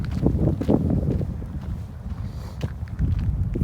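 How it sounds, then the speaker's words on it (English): Wind gusts buffet the microphone outdoors on a road during a walk, a loud continuous low rumble that swells and eases without any talking. "Just wait until that gust of wind goes."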